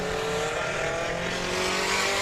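Front-wheel-drive race cars at Indianapolis Speedrome oval after the checkered flag, a steady loud engine drone with harmonic whine held throughout as the field circles and pulls off the track.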